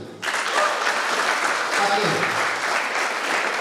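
Participants at an Easter youth camp session break into brisk, full applause that starts abruptly and holds steady and close, with a voice briefly speaking over it.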